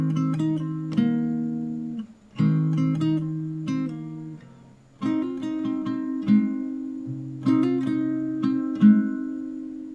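Fingerstyle acoustic guitar picking a section of a pop song, plucked melody over sustained bass notes in phrased groups, close and clear with no talking.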